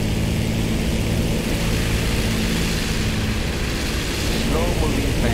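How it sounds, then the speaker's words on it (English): A Stuka tank-buster dive bomber with cannon flies slowly through a video game battle. A constant loud propeller drone and engine roar fills the whole stretch, with a voice partly mixed in. "Slow moving plane, but it's tank buster."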